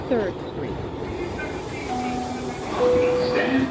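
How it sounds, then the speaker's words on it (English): Interior of a Brooklyn-bound 6 local New York subway train, a steady loud rumble and hiss of the moving car with a few brief tonal squeals from wheels or motors. "This is a Brooklyn-bound 6 local train."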